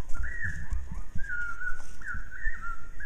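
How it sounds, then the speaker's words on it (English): A slowed-down blackbird song: slow, low warbling of drawn-out whistled phrases, repeated several times over a rumbling low background. "the bird song that sounded like a tropical rainforest bird, is simply a blackbird slowed down"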